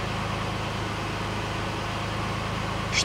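A 2004 Toyota Harrier MCU30 engine idles high at about 1000 rpm after a throttle body replacement, giving a steady low hum with a constant drone and no speech.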